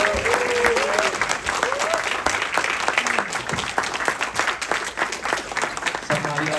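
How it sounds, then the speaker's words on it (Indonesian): Sustained audience applause at a political gathering fills the room, dense and steady for the whole stretch, with scattered voices and cheers rising over the clapping. "Ini saya beri tepuk tangan yang meriah buat"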